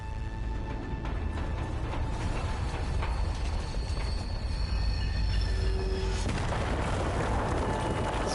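A train in the video game Zombie Army 4: Dead War rumbles and clatters steadily with a dense mechanical roar, faint squeals and tones riding over it, loud throughout with a shift in texture near the end.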